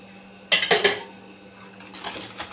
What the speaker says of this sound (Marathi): परत मिक्स करणार आहे.